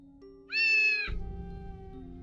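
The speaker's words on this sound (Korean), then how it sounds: "갑자기 어디선가 고양이 우는 소리가 들렸습니다." A single loud, drawn-out cat meow used as a sound effect in a horror story, rising sharply and holding for about half a second before fading into a low rumbling background.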